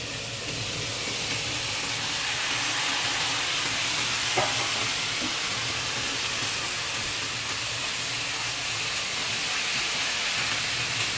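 Chicken frying in a pan gives off a steady, dense sizzle that runs unbroken throughout, close and fairly loud, with faint hissing steam and no talking.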